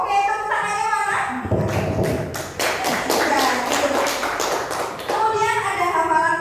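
A class of schoolchildren claps together in a burst of several seconds, a dense patter of close hand claps. Voices speak before and after the clapping.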